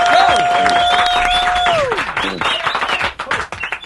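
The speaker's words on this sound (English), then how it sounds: "Big round of applause for yes, that." Applause and cheering from a talk-show studio audience, with a long piercing whistle and whoops over dense clapping that thins out toward the end.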